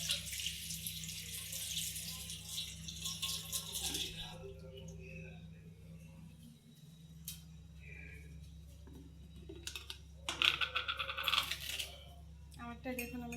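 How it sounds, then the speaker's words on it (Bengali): A spoon being rinsed under a running kitchen tap: water gushes steadily for several seconds, then stops, followed by scattered metallic clinks and a brief second burst of water. "চলুন যাই চামচটা ধুয়ে নিই।"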